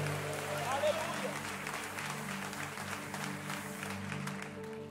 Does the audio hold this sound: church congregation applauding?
yes